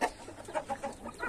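Farmyard hens cluck softly in a rapid series of short, low clucks at moderate distance, with no one speaking.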